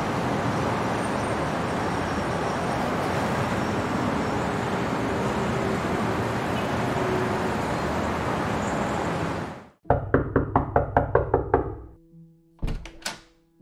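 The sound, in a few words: loud knocking on a door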